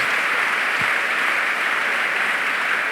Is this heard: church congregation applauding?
yes